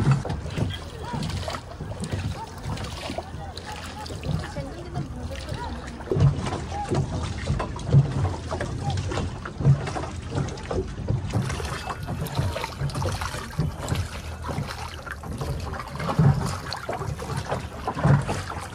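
A tourist boat ride on a lake at Mahabaleshwar, with a steady rumble of the boat and wind buffeting the microphone throughout, plus faint splashes and a few distant voices mixed in.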